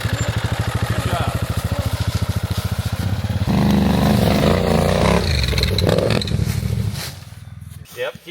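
An adventure motorcycle engine chugs in a rhythmic low pulse during slow-speed riding training, then revs up into a steadier roar before easing off, with an instructor talking over it.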